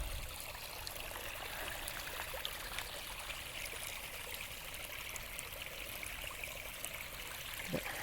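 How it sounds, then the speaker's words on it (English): Steady rushing and trickling of a flowing stream on the Haigmill Lake loop trail, continuous and fairly close, with no voices. "I've never seen this much water on this trail."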